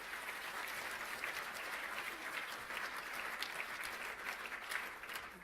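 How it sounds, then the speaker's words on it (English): Steady applause from a dinner audience at an annual banquet fills the room, a continuous even wash of clapping heard from a moderate distance with no voices above it. "Please give yourselves a round of applause"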